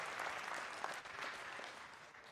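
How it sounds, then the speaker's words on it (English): An audience applauds a sheriff inside Henrico East Jail, steady sustained clapping from a fairly close crowd that tapers slightly near the end, with no talk over it. "So how about a big hand for the sheriff for letting us come up in here?"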